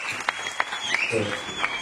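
Crowd at a tramway inauguration in Clichy-Montfermeil applauding, brief moderate clapping with a few sharper claps and voices mixed in.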